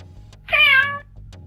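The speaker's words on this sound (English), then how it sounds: "The Echo gave me one little meow" An Amazon Echo smart speaker plays a single close, clear cat meow, brief and bright, between quiet moments in a room.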